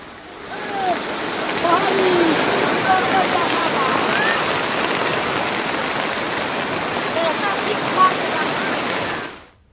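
Fast, flooded Gangauli river current near Sherpur village during monsoon rains, a loud steady roaring rush of churning water that stays dense and constant throughout, with faint bird calls high above.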